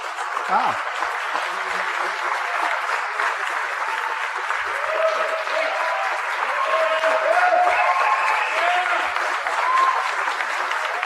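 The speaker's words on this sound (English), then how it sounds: "some of the press was actually clapping" Audience and press applauding Donald Trump's 2015 tax plan speech, sustained loud clapping across the whole stretch, with scattered cheers and voices mixed into the ovation.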